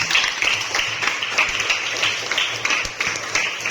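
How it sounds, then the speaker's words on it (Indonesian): A classroom of students applauds a classmate during a school lesson: a brisk, fairly loud burst of many hands clapping together, with a few sharper individual claps standing out. "Tepuk tangan untuk Salwa"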